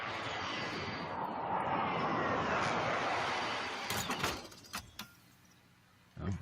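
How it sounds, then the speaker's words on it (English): A video game aircraft flies in for an airstrike, its engine roar swelling and sweeping overhead for several seconds before cutting to a few sharp, sudden bangs and a near-silent pause. "friendly precision airstrike inbound"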